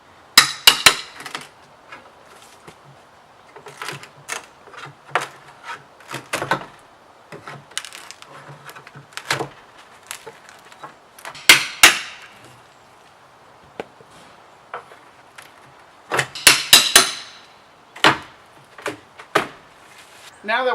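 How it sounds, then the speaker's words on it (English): Wooden 1x4 framework and trim being pried and knocked off a screened porch, heard as sharp irregular knocks, cracks and clattering impacts spaced through the stretch, with quiet gaps between them. "you're going to first have to remove all the wood framework"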